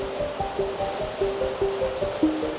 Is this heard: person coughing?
no